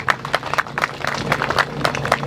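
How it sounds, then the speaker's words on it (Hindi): An audience at a groundbreaking ceremony for the Zamar Valley Enclave Tower breaks into lively applause, dense, uneven clapping with sharp individual claps close by and no talk over it. "इस बात पे तालियां होनी चाहिए।"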